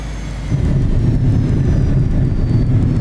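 Learjet 35A engines roar steadily during a landing in the flight simulator MSFS 2024, a loud, continuous low jet rumble with a slight rise in intensity partway through.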